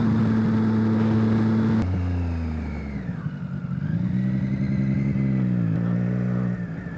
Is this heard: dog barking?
no